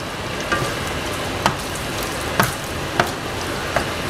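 Fresh grated Parmesan cheese being stirred into pasta in a pan, with soft sizzling underneath and about five distinct scraping clacks at irregular intervals.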